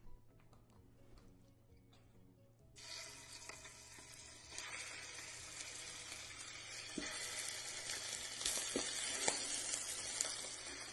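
Chicken pieces dropped into hot cooking oil in a pan for bhindi chicken, bursting into a loud continuous sizzle after a quiet start, with crackles and occasional stirring scrapes building steadily.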